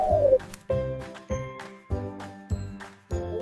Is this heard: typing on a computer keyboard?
no